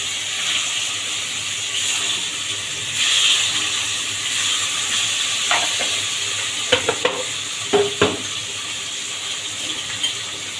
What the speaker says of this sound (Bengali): আমি এখন মাছগুলো ভালো মতো কড়াভাবে ভেজে নিব